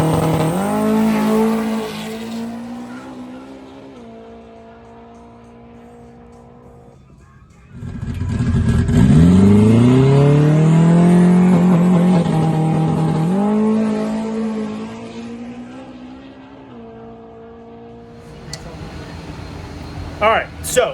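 A drag racing truck on a no-prep track at Lancaster, New York runs its engine with a loud rising rev in the middle, easing back to a lower drone, while people talk throughout.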